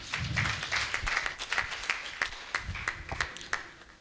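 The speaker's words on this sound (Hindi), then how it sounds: "और एक सराहनीय कार्य के लिए उनके लिए जोरदार तालियां बजा दीजिए।" Scattered clapping at a kavi sammelan poetry gathering: a few distinct, separate claps pop out irregularly, fairly close and moderately loud, over a thin background rather than a full crowd roar.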